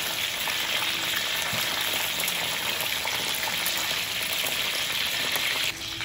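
Fried chicken sizzles steadily in a pan of hot oil, a loud, dense frying hiss running unbroken and close for the whole stretch, easing slightly right at the end.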